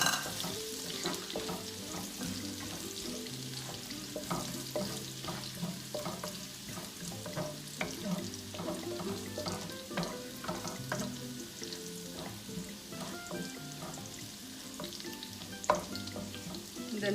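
Garlic sizzles in a hot pan for Filipino pork laing, a dense, steady frying crackle with occasional stirring clinks and scrapes, close and continuous throughout.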